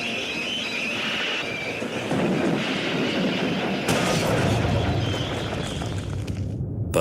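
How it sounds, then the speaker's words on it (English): Steam locomotive braking hard as it nears a tunnel under repair, a dense steady roar of rolling wheels and squealing brakes sustained for several seconds, loud and close with no voices. "His driver reduced steam and braked hard."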